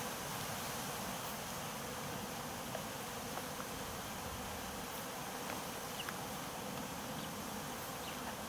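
Honeybees from an installed package hum in a wooden hive box full of comb, a steady dense buzzing drone that stays close and constant throughout with no voices.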